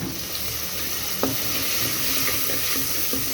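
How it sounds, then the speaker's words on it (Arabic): Garlic fries in the pot used for boiling pasta, a steady close sizzle and hiss with light scraping and a sharp utensil tap as it gets stirred. "هحط ايه نص معلقه ثوم كبير وهقلبها معايا كده"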